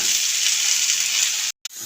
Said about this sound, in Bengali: এটা দিয়ে আবার নাড়াচাড়া করবো।